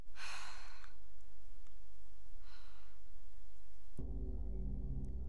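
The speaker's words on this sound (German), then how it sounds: "Schon wieder so eine Szene, wo sie atmen, aber ansonsten keinerlei Synchro bieten" Characters in a Parasite Eve II video game cutscene let out two audible sighing breaths over a constant low hum, followed by a sudden shift to a louder droning tone near the end.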